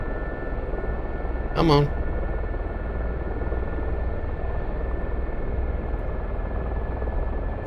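Gazelle helicopter engine from the DCS World combat flight simulator, a steady continuous rotor and turbine drone filling the whole stretch, with a brief voice cutting in near the start.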